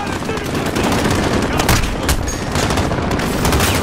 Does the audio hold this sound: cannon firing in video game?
yes